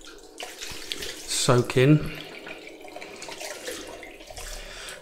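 Tap water runs steadily into a sink while a shaving brush is rinsed under it. Someone speaks briefly over the close, continuous flow.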